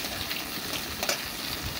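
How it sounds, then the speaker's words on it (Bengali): Eggplant fries in a pan on an outdoor stove, giving a soft, steady sizzling hiss with a faint bubbling crackle, brief and quiet. "মাছ ভাজা হয়ে গেছে তো বেগুন ভাজা চাপিয়ে দিলাম"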